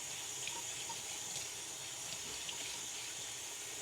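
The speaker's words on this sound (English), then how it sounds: "So I'm just rinsing it off." Tap water runs steadily into a sink as food fresh from its package is rinsed under the stream, a close, even hiss with no voices.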